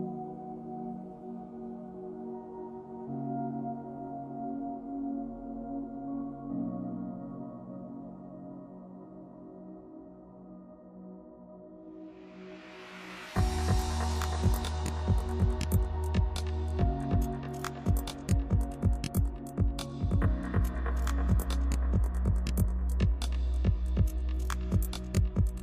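A key cutting machine fitted with a 5.0mm cutter starts up and bites into a SAG tubular key blank, a steady motor hum giving way halfway through to loud, rapid grinding and clicking that continues to the end.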